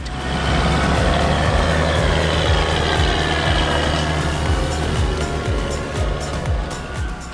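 A 650-horsepower Claas Jaguar 960 forage harvester with a 12-row header works a maize field, its loud, steady engine drone running throughout with a faint repeating low ticking underneath.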